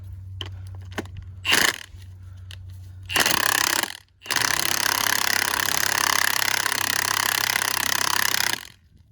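A Milwaukee M18 FUEL power tool drives a socket on a stubborn nut. It fires in three harsh, loud, close bursts: a brief one, a second lasting about a second, and a long sustained run, with a low hum underneath.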